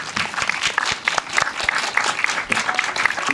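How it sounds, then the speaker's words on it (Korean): An indie film talk audience claps to welcome the director and two actors, a lively, uneven patter of hands that rises and dips in waves, with faint voices underneath. "박수 부탁드리겠습니다"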